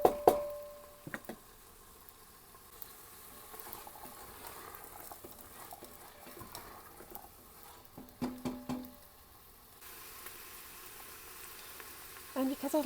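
Chickpeas and onions warming in a pan, a quiet low sizzle running under occasional knocks and scraping clatter of a utensil, with a short tonal hum in places.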